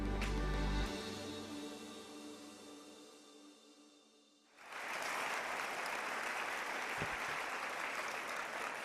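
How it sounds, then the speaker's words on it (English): Audience applause at an annual celebration for a disability organization, dense clapping that swells in loudly after a quieter passage and continues steadily for several seconds. "can we please just another round of applause for Amatula, Nate, and Tite"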